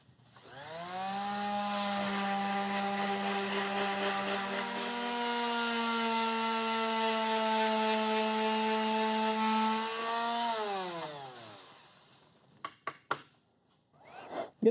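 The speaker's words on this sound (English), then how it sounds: "I need to notch out a little bit right there just to make room for the other piece." A power tool notches out a piece of material for a potato cannon build, a loud sustained whine lasting about ten seconds before it spins down, followed by a few short clacks.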